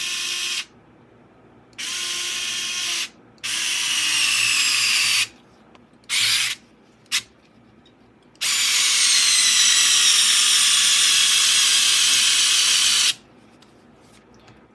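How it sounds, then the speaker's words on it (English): Power driver running screws into the differential of a Tekno EB48 2.2 1/8-scale RC buggy, several short whirring bursts and one long sustained run, close and loud, with no talking. "I'm going to go ahead and take my driver, and I'm going to get these screws a lot of the way down"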